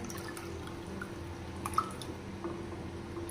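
Soft wet drips and squishes as syrupy rasmalai is spooned into a serving bowl, faint and close, with a few small splats and no talking.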